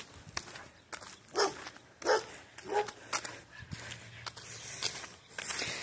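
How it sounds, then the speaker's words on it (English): A labradoodle on a roadside walk gives a few short barks spaced about a second apart, along with scuffing footsteps and light outdoor background noise. "That's a new dog."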